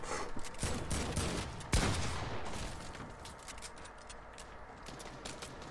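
Gunfire in the video game Fortnite: a rapid flurry of shots at the start, a sharper crack near two seconds, then scattered quieter shots.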